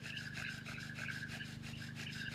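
A wooden friction fire drill spins steadily against a hearth board, giving a continuous rubbing rasp with repeated squeaks in a fast back-and-forth rhythm, close up and with no talking.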